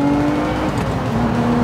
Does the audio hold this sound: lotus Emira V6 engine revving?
yes